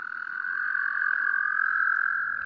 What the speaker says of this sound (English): Let's start by synthesizing the American toad's trill.